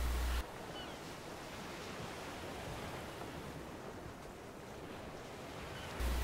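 Steady wash of water and wind noise as a houseboat crosses the water in ARK Survival Evolved, a soft continuous rushing surf sound at low level with no speech.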